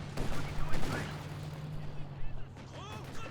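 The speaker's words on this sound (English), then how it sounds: "Nice grenade. Oh, a gammon grenade." A gammon grenade explodes in the World War II strategy game Company of Heroes 2, a dull, booming blast set among scattered gunfire, with a player talking over the noise.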